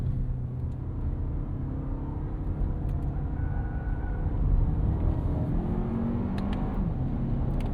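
Inside a 2025 Lexus RX 500h turbo hybrid SUV with 366 hp, a steady cabin rumble of road and engine noise carries a rising engine note during a rev-matched downshift, moderately loud.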